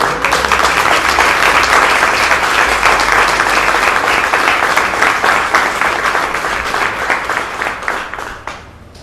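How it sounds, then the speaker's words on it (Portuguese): A church congregation bursts into sustained applause during a Portuguese-language sermon, a loud, dense wash of many hands clapping that holds steady for several seconds before tapering off at the end. "Aplauda o Senhor."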